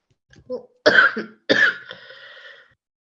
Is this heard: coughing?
yes